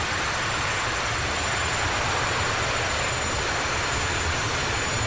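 Reverse thrust roar from a Boeing 737-200 ADV in Aerolineas Argentinas livery landing at Matecaña Airport in Flight Simulator X: a steady, loud, broadband rushing roar that holds constant throughout, with no talk.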